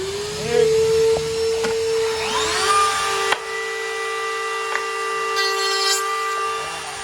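A vacuum runs beside a router cutting cope-and-stick mortise and tenon joinery on a practice wood window sash. It makes a steady, close droning hum with a thin high whine that holds for the whole stretch, with a few brief knocks over it.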